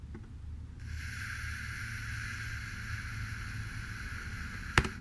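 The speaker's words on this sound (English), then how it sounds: "So allow me to simulate some white noise here." Artificially generated white background noise, a steady broadband hiss that switches on abruptly and holds evenly, alone with a short click near the end.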